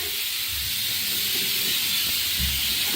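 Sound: pressure cooker hissing steam

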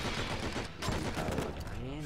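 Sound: gunfire from the video game Enter The Matrix

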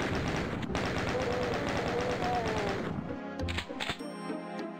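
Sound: chain gun firing in Doom II video game

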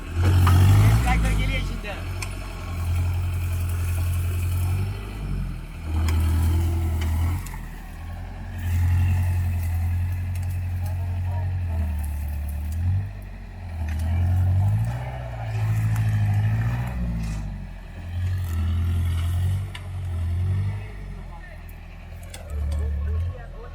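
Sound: tractor engine ploughing a weedy field

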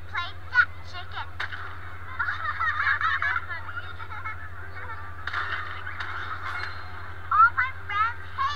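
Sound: chicken sound played

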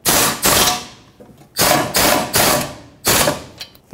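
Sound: tightening caliper bracket bolts on Volvo S60

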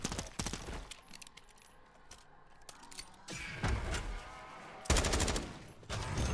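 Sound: gunfire from an MW2 weapon in a video game

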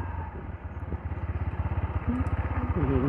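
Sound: motorcycle riding

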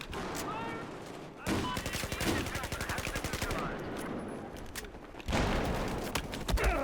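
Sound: gunfire in Battlefield 4 video game

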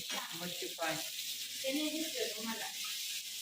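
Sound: vegetable curry frying in a pan on low gas

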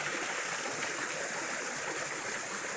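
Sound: water of a fountain in a butterfly garden

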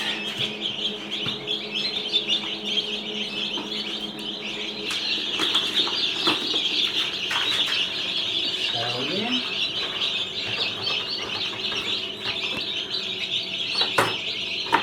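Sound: newly hatched chicks chirping

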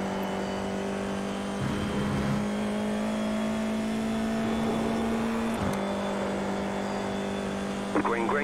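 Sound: Formula 4 race car engine in iRacing video game

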